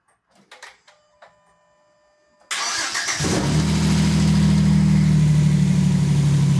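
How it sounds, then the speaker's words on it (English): An old Jeep engine cranks briefly and fires up after years of sitting, then settles into a loud, steady idle; a few faint clicks and bumps are heard before it catches. "Time to see if this thing fires."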